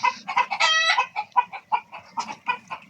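Chickens on a poultry farm cluck in quick, overlapping bursts close by, with one drawn-out squawk among the choppy calls.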